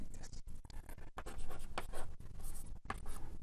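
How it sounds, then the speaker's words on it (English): Chalk or marker writing on a board during a physics lecture on entanglement entropy, steady scratchy strokes with brief pauses between them, fairly close and alone without talk. "Let me just write this."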